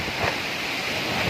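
Strong typhoon wind during Typhoon Odette, a dense, steady roar of gusting air buffeting the microphone continuously throughout, with no voices.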